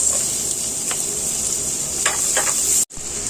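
Garlic and onion frying in butter in a pan, a steady bright sizzle throughout with a few soft stirring clicks, close and alone before a brief dropout near the end.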